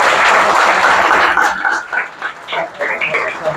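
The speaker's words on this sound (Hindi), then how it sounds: "मुझे सोना के लिए ताली हो जाए जोरदार" Audience applause in a classroom-style gathering, loud dense clapping at first that thins into scattered claps and fades with faint voices.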